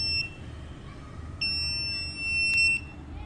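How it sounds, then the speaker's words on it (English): A buzzer wired to a Raspberry Pi with an IR sensor sounds two steady high-pitched electronic tones, a short one and then a longer one, over a faint room hum. "As you can see, the buzzer is working."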